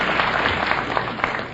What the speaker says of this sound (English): Some rat out there started the applause.